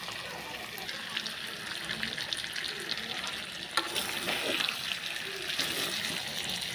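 Meat with fried potatoes and a pinch of ground panch phoron sizzles steadily in a pan, a continuous close frying hiss with occasional stirring scrapes.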